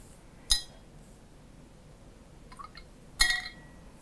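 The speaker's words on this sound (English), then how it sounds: "take this test tube and drop it in that container of water" A glass test tube drops into a container of water with a sharp clink, followed by a softer splashing patter and a second bright glassy clink, all quiet against a still room.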